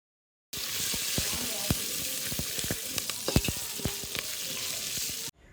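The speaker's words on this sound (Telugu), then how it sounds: "5-6 పచ్చిమిర్చిని నిలువుగా కట్ చేసుకొని ఉల్లిగడ్డలో వేసుకోవాలి" Sliced onions with salt and 5-6 lengthwise-cut green chillies fry in oil for a home-made chicken pulao, giving a steady close broadband sizzle with scattered sharp crackles and pops throughout, and no voices.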